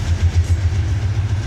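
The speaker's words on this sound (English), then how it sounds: "sorry about the noise. The choo-choo, choo-choo train." A passing train rumbles steadily and close, a loud low throbbing roar with a faint rhythmic pulse, heard alone without talk.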